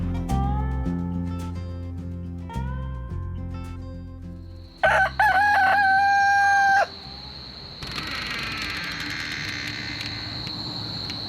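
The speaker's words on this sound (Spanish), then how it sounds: "Hola, gallo." A rooster crows in a rural setting in Australia, a clear rising call in the middle of the clip, loud and fairly close, with other bird and animal calls around it and a steady background hiss afterward.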